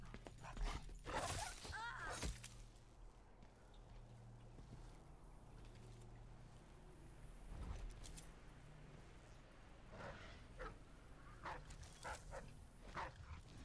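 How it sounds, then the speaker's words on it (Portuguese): Dogs barking in the stealth game Dishonored 2, several sharp yelps and barks scattered over about fourteen seconds against a low droning game ambience, some near and some more distant. "Tem muito cachorro aqui."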